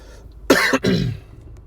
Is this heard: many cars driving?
no